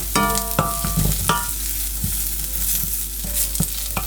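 Grated dry coconut is roasted in a pan with masala for Malvani crab masala, a soft dry sizzle broken by repeated metallic scrapes and clinks of a spoon stirring against the pan.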